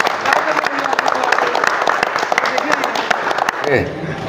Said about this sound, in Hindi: ताली बजाइए आप लोग